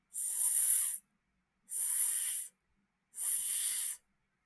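A voice imitates a snake's hiss by drawing out a sharp, steady "s" sound three times, each about a second long with even pauses between, close and loud.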